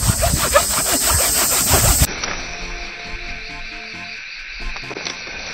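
A hand saw rasps through bamboo in rhythmic strokes for about two seconds, then gives way to quieter scraping and rustling, all close and with no talk.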